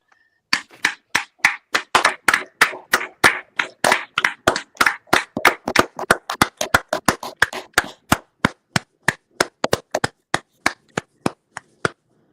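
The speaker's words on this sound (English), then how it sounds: "give themselves a round of applause for that" A few pairs of hands clap in a steady, fairly quick rhythm for about twelve seconds, close and crisp, with no talking.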